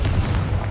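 Confringo blasting curse in Hogwarts Legacy on PS5, a short heavy booming explosion that rumbles low and loud for under a second.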